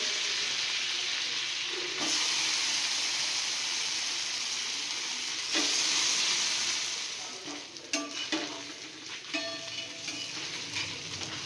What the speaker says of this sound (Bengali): এই বাটার মেল্ট হলে পাউরুটিগুলো দিয়ে দিচ্ছি